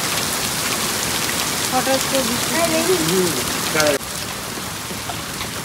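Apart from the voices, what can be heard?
heavy rain with hailstones falling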